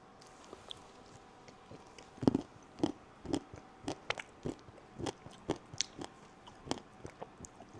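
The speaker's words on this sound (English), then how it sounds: "Sorry, you guys might hear me chewing, but this is unreal" Close, steady chewing of Cinnamon Toast Crunch flavored protein Ninja Creami, with crunchy bites and wet mastication sounds in an irregular rhythm and no talking.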